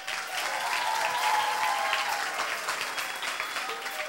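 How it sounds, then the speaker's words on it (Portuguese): An audience at a school quiz show applauds in a steady, dense wash of clapping that holds for several seconds at moderate distance. "Aplausos para o secretário"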